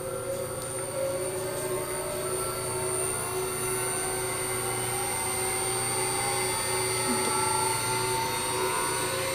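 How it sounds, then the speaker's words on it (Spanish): An electric motor driven by a variable frequency drive speeds up, its steady whine gliding gradually higher over a constant hum, with several tones rising together throughout. "Y el motor aumenta su velocidad debido a que está aumentando la frecuencia a la que opera."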